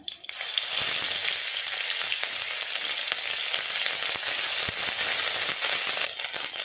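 Ginger paste hitting hot oil tempered with cardamom and cloves, a loud, steady crackling sizzle that runs nearly the whole time with small pops and spatters.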